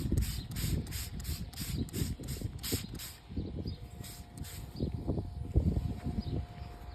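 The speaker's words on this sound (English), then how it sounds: "Just spray it down really well." Repeated short hissing bursts from a spray bottle of organic pest control on plant leaves, evenly paced at first, then scattered, with faint rustling and clicking underneath.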